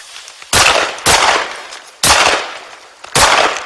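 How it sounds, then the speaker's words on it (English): Four loud, sharp gunshots ring out in an uneven series during a police standoff with an armed suspect, each crack trailing off in a brief echo with no talking. "Shots fired."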